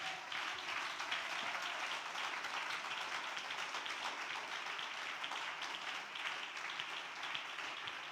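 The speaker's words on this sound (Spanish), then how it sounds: "hay un aplauso para Él" Continuous applause from a church congregation during a sermon, a steady even patter of many hands clapping at moderate distance without pause.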